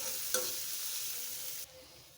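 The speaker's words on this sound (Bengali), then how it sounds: "দিয়ে ভালোভাবে কষিয়ে নিই।" Onion paste sizzles steadily in a hot pan while being stirred for a spicy prawn curry, a soft, even fry with one brief scrape, close but quiet.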